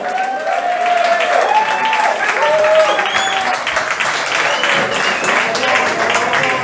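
Audience applause at a blues session in a rock café, steady and fairly loud throughout, with voices and shouts audible over the clapping.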